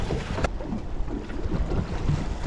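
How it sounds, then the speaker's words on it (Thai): Wind buffets the microphone and waves slosh during a motorboat ride at sea, a loud, continuous rushing roar with a sharp thump near the start. "มีทั้งลมทั้งคลื่นนะคะวันนี้"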